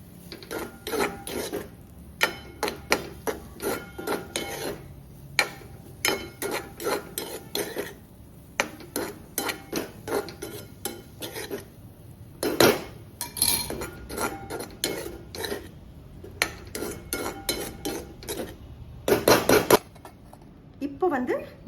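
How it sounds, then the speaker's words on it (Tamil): Vegetable fried rice is stirred and tossed in a pan with a metal spatula, a long run of repeated scraping and clinking strokes in uneven rhythm, close and moderately loud, with brief louder clatters. "நல்ல ஒரு வாட்டி கலந்து விடலாம்."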